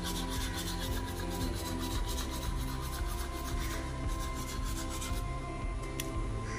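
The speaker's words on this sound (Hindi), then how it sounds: "जा रहा हूँ ब्रश करते हैं" Someone brushing their teeth with a toothbrush: continuous close, loud rasping scrubbing with fast rhythmic strokes and no talking.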